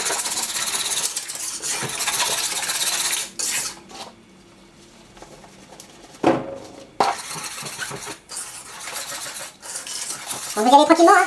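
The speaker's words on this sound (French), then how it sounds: "Moi je commence au fouet." A whisk beats a homemade carp boilie mixture in a bowl with close, brisk scraping and clinking strokes, pausing in a quieter stretch before resuming, with a few sharper knocks near the end.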